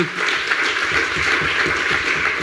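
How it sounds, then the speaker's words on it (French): An audience at an evening public event applauds steadily, a dense, even patter of many hands clapping at moderate loudness for the whole stretch with no talking. "On peut l'applaudir pour lui donner un petit peu de force"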